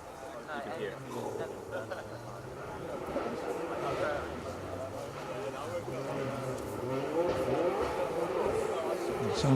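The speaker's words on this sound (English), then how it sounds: "we have got a car approaching us" A rally car on a forest rally stage is heard far off, its engine note rising and falling through gear changes as it gradually approaches, growing slightly louder over steady ambient background.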